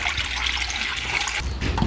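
Water runs from a tap into a pot in a home kitchen, a steady close splashing trickle that shifts slightly in tone as the pot fills.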